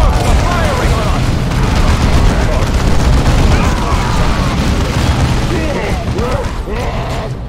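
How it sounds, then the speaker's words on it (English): Ork gunfire rattles through a Dawn of War II battle, dense overlapping shots and booms forming a loud continuous barrage with voices talking over the din throughout. "Orcs are firing on us!"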